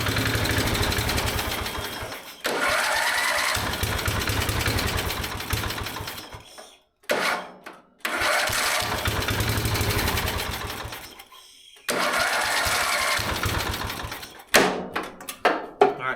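A small gasoline engine with a fuel mixture problem runs in loud rattling bursts of several seconds, cutting out into short gaps before catching again, then sputters in uneven pops at the end, close by.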